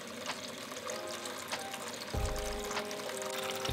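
Water runs and trickles through the stacked sieves of a laboratory vibratory sieve shaker during wet sieving, a soft continuous pour with a low vibrating hum that grows stronger partway through.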